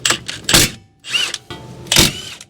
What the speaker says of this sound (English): Now I'm just going to use a small impact that'll fit in here